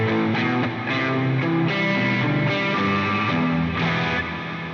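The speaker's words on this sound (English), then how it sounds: "I put a really big reverb on there" An electric guitar plays through a Headrush effects unit set with a very large reverb, sustained chords washing together continuously and loudly with no gaps, no talking.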